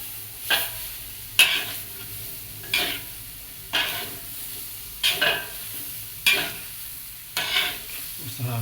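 Steady frying sizzle of oncom, fermented soybean cake, in a pan, punctuated by regular scraping stirs roughly every second, close up with no talking.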